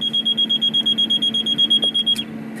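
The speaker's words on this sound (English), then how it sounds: "checking to make sure that the overspeed horn will sound if the airspeed indicator detects an overspeed" Overspeed warning horn tested in a Citation V cockpit during preflight, a loud, rapidly pulsing high electronic tone beeping about eight times per second over a low hum, then abruptly cutting off.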